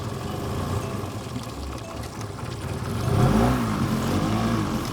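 A Hidea 9.9 HP outboard boat motor runs close by with a steady mid-pitched drone and swells briefly in a short rev near the end, with no voices.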